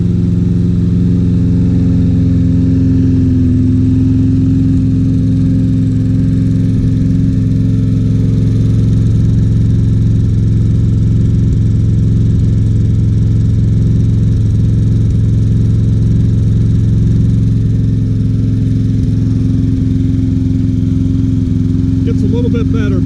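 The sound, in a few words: Troy Bilt XP lawn mower engine running and smoking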